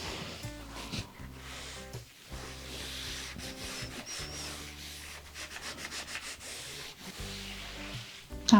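A hot iron slides back and forth across linen fabric on an ironing surface for a beach tote, making soft repeated rubbing and scraping strokes with brief pauses, close and quiet, no talking.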